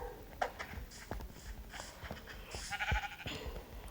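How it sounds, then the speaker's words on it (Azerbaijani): Sheep bleating at a farm, with several short calls scattered over a few seconds among faint background noise and light clatter. "Qoyun var."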